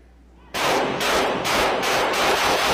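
Dense, rapid gunfire bursts in quick succession start abruptly after a brief quiet, loud and sustained, like an intense firefight in a video game.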